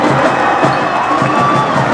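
A loud crowd roars and cheers after a boys high school basketball game, Central Catholic vs Barlow in 2019, ends in a 73-71 Rams win. The cheering is dense and sustained, with no clear voices over it.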